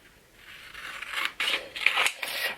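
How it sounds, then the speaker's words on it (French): Scissors snip away surplus paper from a motif meant for a glass Christmas lantern, making several close, crisp cutting strokes that swell and pause in an uneven rhythm, with no talking. "vous prenez des ciseaux et vous coupez le surplus."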